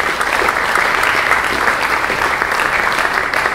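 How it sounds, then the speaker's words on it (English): Steady, dense applause from an audience honoring the panelists at a foreign policy panel event, sustained and evenly loud throughout with no talking. "One more time, a round of applause for our panelists."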